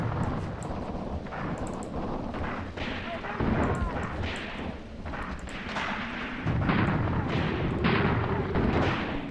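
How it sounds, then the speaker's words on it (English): Tank machine-gun fire and heavy cannon blasts ring out in a Tunisia 1943 tank battle game, with dense, repeated booming bursts and rattling fire running throughout, loud and close, and a voice talking over the gunfire. "I hope Rhodes is getting some decent shots here with the machine gun."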